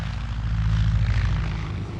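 A propeller airplane drones overhead in a 1930s aerial flight over Germany carrying Hitler, a steady loud engine hum that swells slightly and holds throughout.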